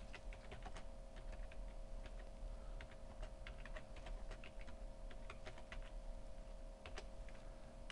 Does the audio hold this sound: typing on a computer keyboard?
yes